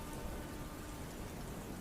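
Rain pours down steadily as a dense, even hiss of falling water, faint and continuous with no other sounds.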